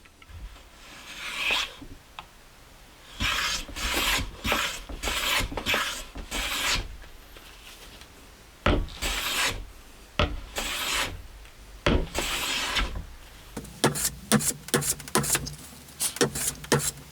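Hand plane or chisel shaving wood while fitting a dovetail joint on a stitching tray, heard as a series of rasping, rubbing strokes in bursts, some longer and some quick and clipped, close and fairly loud with no talk.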